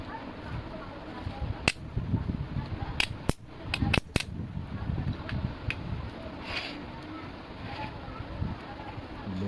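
Cap gun firing powder caps, several sharp cracks, two spaced singles followed by a quick cluster of snaps, close and loud over a low handling rumble.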